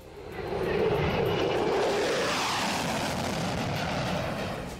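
Steady, loud roar of a US-built F-16 fighter jet passing overhead, a broad rushing engine noise that swells in the first second and holds strong with no speech.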